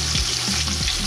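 Panamanian fish frying in hot oil, a steady close sizzle with bursts of crackle throughout.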